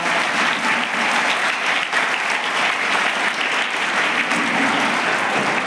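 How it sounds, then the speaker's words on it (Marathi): Sustained clapping from a school audience honouring Namrata madam, many hands at once, loud and continuous with no pauses, filling the space at even strength from start to end. "नम्रता मॅडमसाठी टाळ्या वाजवा"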